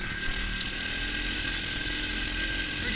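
A pit bike engine bogs down in cold weather, a steady buzzing drone with a rough, uneven chug underneath, close and fairly loud throughout.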